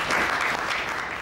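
A theatre audience bursts into dense, steady applause, loud and close, lasting only a moment with no voices over it.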